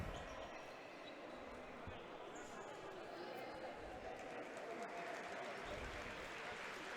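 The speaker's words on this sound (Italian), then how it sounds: "Gli applausi." Faint, distant applause rises from the crowd in a futsal arena after a Serie A match between Came Treviso and Sandro Abate, mixed with murmuring chatter and a commentator's voice.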